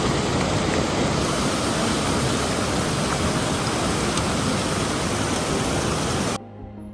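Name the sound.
cold glacial stream at Hampta Pass river crossing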